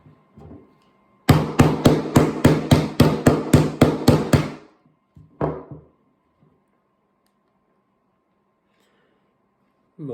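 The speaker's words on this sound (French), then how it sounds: "on va mettre maintenant plein de petits coups de marteau pour voir si ça résiste vraiment au choc de marteau" Hammer tapping a phone screen covered with hydrogel film, about ten quick, sharp, evenly spaced knocks close by, then one more tap after a short pause, with silence around them.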